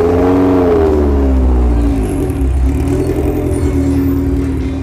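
Drag racing cars roar past at a race event, a loud sustained engine howl with rising and falling revs and harmonic whine, close and continuous throughout.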